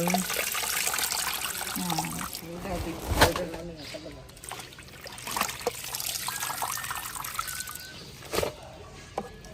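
River water trickles and splashes close by while nami tubers are washed in a river in the province. The dribbling and sloshing comes in uneven bursts under faint background voices.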